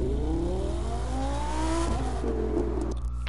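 A BMW M4 race car engine revs hard and climbs steadily in pitch, fairly close, then the note shifts and drops briefly near the end, with no talk.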